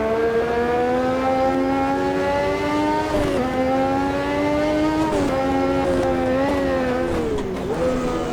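McLaren MP4 Formula 1 car in the Automobilista 2 racing game, its engine note droning steadily with rising revs and brief dips at gear shifts, loud and continuous with no talk.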